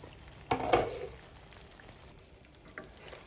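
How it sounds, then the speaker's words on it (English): Jamaican coconut curry sauce stirred in a hot pot before shrimp are added, giving a brief scrape and bubbling sizzle near the start that fades into a low, steady simmer. "Just give it a little stir."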